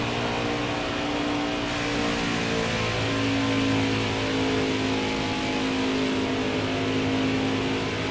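Racing truck engines droning and revving together during a Craftsman Truck Series race at Michigan International Speedway, a steady, loud roar with pitch shifts as the trucks pass.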